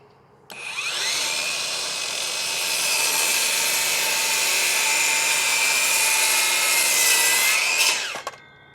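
A Ryobi 6 1/2 inch cordless circular saw cuts through wood, a loud steady high-pitched whine that starts abruptly, holds for about seven seconds with a faint rising strain, then spins down.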